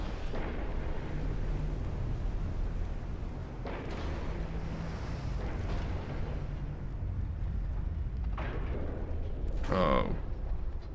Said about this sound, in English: Something exploded.